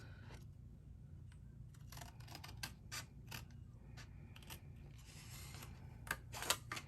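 Scissors cutting along score marks on a block of paper for a triangular treat box, with a series of crisp, irregular snips and paper crackles, close and quiet over faint background hum.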